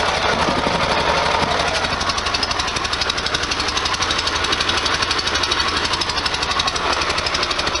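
A 1973 VW Super Beetle air-cooled engine fitted with a new stainless Empi header runs at a steady idle. The clattering exhaust rattles on continuously and close by, with no voices.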